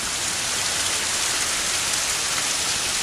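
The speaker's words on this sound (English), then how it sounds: "But it's just pouring down rain." Heavy rain pours down steadily, a dense, loud hiss of water without any break.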